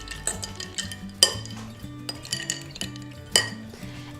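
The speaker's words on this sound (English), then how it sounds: "Give these a stir" A spoon clinks and rattles against glass as drinks of Jack Daniel's with citrus are stirred, bright repeated chimes in an uneven rhythm with two sharper strikes, close and clear, no talking.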